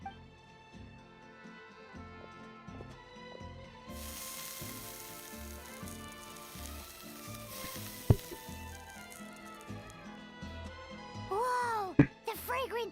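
Fish and mushrooms searing in a pan in the Genshin Impact video game give a steady sizzle under background music, with a few sharp clinks and a louder hiss toward the end.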